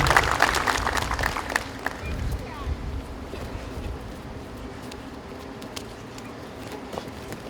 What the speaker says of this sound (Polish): Brawa jeszcze raz. Te brawa są dla Ciebie.